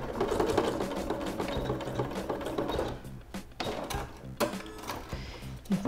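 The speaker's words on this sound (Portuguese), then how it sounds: "aí eu vou para a máquina e vou passar novamente 2 costurinhas" A sewing machine stitches along the edge of a fabric bag in a fast, continuous mechanical chatter, pausing and restarting in short bursts near the end, close and clear with no talking.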